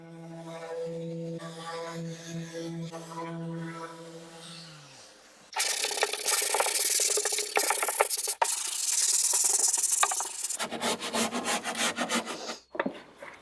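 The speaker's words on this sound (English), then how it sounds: "I sanded the inside of this sideboard" Sandpaper scrubs across the inside of a wooden sideboard in loud, continuous rasping strokes, broken by a brief pause and a change of rhythm near the end, following an earlier stretch of quieter tonal sound.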